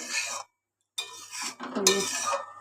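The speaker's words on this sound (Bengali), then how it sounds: "এবার ভালো করে নেড়ে চেড়ে ফুটতে দেবো।" Egg curry stirred in a pot, with spoon scrapes and clinks against the metal in short bursts separated by a brief pause, close and fairly soft.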